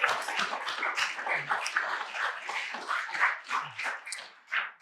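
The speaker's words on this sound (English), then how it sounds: "let's give the staff here at the Medicine Hat Golf and Country Club a big round of applause" A room of guests at a community foundation reception at the Medicine Hat Golf and Country Club applauds, a moderately distant, dense patter of many hands that rises and dips unevenly over several seconds.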